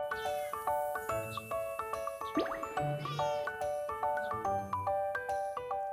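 A cat meows a few times at feeding time on a Korean melon farm, amid bright, repeated chiming tones that ring out in a steady pattern throughout.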